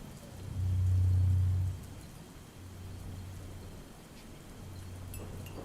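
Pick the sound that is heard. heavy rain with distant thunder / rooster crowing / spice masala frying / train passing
heavy rain with distant thunder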